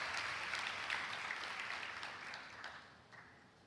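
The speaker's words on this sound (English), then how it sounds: "We need a big round of applause for all our university guests" Conference audience applause for university guests and sponsors at the 2019 annual IC3 Conference: soft, distant-sounding clapping that holds steady, then gradually thins and fades toward the end.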